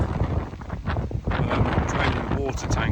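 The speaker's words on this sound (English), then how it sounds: "it's a very windy day here at Marina." Strong gusting wind buffets the microphone at a marina, producing a steady loud rumble and roar with fluctuating gusts throughout.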